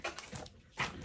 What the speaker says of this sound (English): That's my dog who's mad that he's at the door and not in here with me.